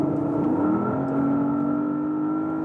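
Porsche Panamera GTS on a racetrack, engine droning steadily and loud with a rising pitch as it pulls after braking, a continuous close-up roar with no talk.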